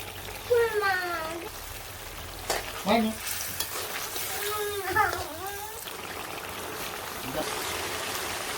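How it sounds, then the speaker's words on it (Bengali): Fried fish heads are added to a pot of simmering shukto, with a steady bubbling and sizzling bed and a few clinks and stirring scrapes. Someone speaks intermittently over it. "এই পাশে যে মাছের মাথা ভেজে রাখছিলাম এখন দিয়ে দিই"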